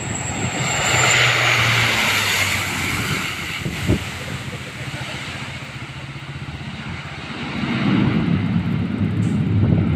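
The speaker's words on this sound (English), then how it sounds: "This Q400 almost had a tail strike while landing in the Philippines." A Q400 turboprop airliner lands while its engines and propellers roar loudly and steadily. Broad rushing noise swells and fades over the ten seconds, with no voices.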